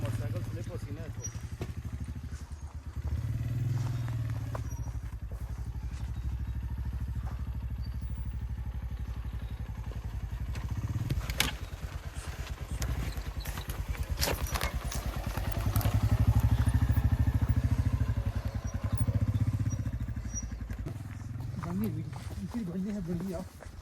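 Motorcycle riding on a snowy winter road near Kund Bangla meadows in Mansehra district, its low steady engine drone continuous throughout and swelling louder midway, with people talking over it.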